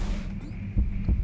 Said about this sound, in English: So now, am I hearing his heartbeat?